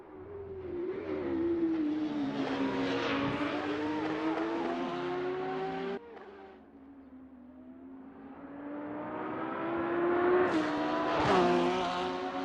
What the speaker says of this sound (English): We've heard an over-revving car.